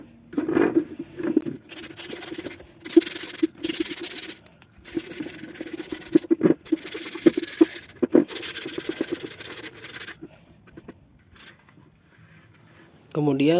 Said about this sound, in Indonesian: Setelah dempul kering seperti ini, kita lanjut dengan proses pengamplasan agar bagian-bagian yang tadi kita dempul